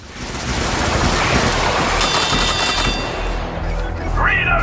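Rapid automatic gunfire from the top-down shooter video game Helldivers, a dense continuous crackle of shots close and loud, with a voice talking over the battle.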